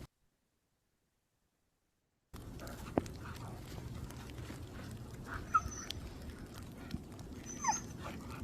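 Two dogs play together with faint whimpers and small yips scattered over a low background hum, starting after a short stretch of silence.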